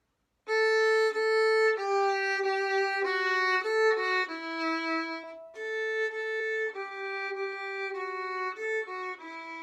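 A violin plays the May Song melody in sustained bowed notes, the first pass strong and full, then the phrase repeats more quietly after a short break, solo with no voices.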